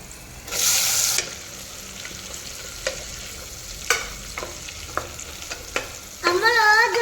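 Tomatoes go into a frying pan in a home kitchen while fenugreek-leaf dal is being made: a short, loud burst of sizzle, then scattered clicks and scrapes of stirring, and a brief squealing tone at the end.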